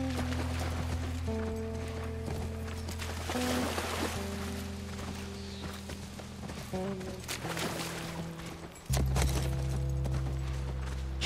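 Horse hooves gallop in The Last of Us Part 1, a steady clip-clop running under sustained game music and ambient sound, fairly loud throughout with no talking.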